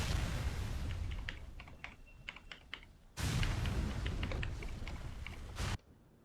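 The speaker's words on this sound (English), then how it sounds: "My keyboard is of the Cherry MX speed variant, and sometimes I accidentally press the wrong keys thanks to how sensitive it is" Rapid clicking keystrokes on a Cherry MX Speed mechanical keyboard, close and crisp, in a steady burst over a loud ambient game soundscape whose level drops out partway through.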